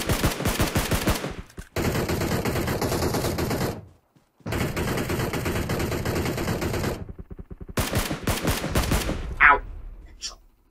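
Sustained rapid video game gunfire, long automatic bursts with brief pauses between them, loud and close, continuing in shorter bursts near the end.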